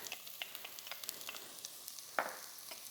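Chilli sizzles and fries in a hot pan for Thai chicken soup, a close, quiet crackle of spitting oil with a small stir clatter near the end.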